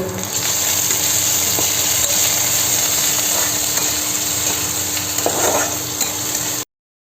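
Onion paste fries in oil in a kadai, giving a constant close sizzle with occasional scraping stirs, then it cuts off abruptly.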